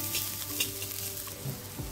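Cashews and raisins sizzle in hot oil in a pan, a steady close frying hiss with occasional light stirring scrapes throughout, and no voices.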